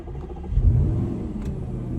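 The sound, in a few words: Audi RS5 4.2 V8 FSI engine starting with dash key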